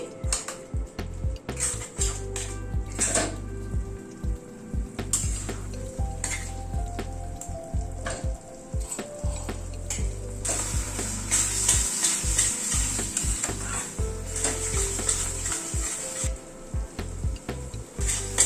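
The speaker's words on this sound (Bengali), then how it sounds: "কর্নটা দিয়ে আর একটু কষিয়ে নিচ্ছি।" Corn kernels sautéing with spices in a pan for a corn masala bhindi curry, a steady close sizzle with repeated scraping and clinking of a spoon against the pan throughout.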